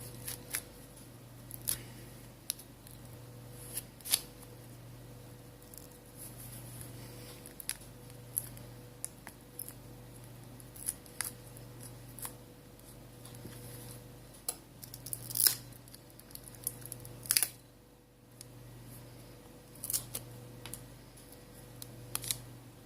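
A plastic pick prying apart the back cover of a Sony Xperia Z1 Compact D5503 phone: scattered small clicks and snaps, close and faint, over a steady low hum with no talking.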